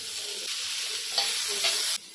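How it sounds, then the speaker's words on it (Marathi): Tomatoes dropped into reddish-browned onions frying in a pan, a steady close sizzle with a brief louder crackle burst midway, then the hiss drops abruptly near the end. "कांदा आपण चांगला लाल भाजून घेतला आता टोमॅटो टाकून घेऊया"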